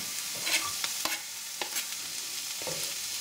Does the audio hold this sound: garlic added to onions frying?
yes